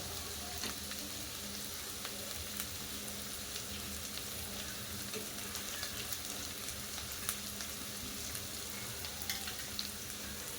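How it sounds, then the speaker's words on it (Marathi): Tomatoes sizzle steadily in hot oil while frying for a simple home-style pulao, a soft, constant crackle and hiss with faint scattered pops, continuous throughout and without talk. "त्याच्यामध्ये आता आपण टॅमॅटो घालूया."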